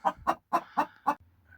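A hen clucks after laying an egg, in five loud, evenly spaced bursts, close by, followed by a faint low murmur.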